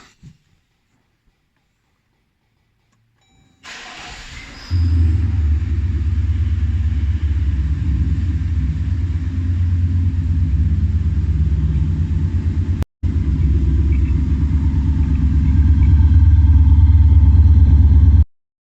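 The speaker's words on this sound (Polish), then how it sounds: "Palimy samochodzik." Car with a Thor active exhaust system: after near silence, the engine cranks and catches, then settles into a deep, steady idle rumble that swells slightly louder near the end, with a brief dropout midway.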